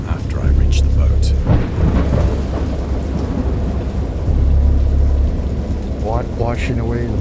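Heavy rain pours continuously in a horror video game while low thunder rumbles and rolls, with a few sharper cracks and a brief faint voice-like sound near the end.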